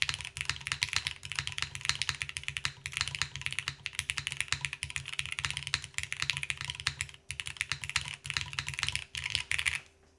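Rapid, steady typing on a Malvix Moonlight mechanical keyboard with PBT keycaps, with close, crisp clacks in quick bursts and a short pause near the end.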